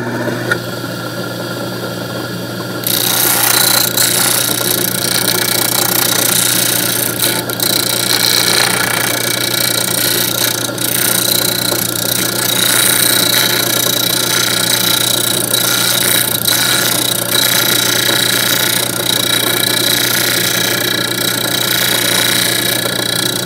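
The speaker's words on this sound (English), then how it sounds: "So we'll do that on the disc sander." A disc sander grinds down a small part for a rotary marble lift, a steady loud motor whine running throughout after a brief quieter start.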